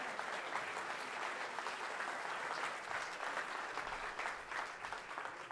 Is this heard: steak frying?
no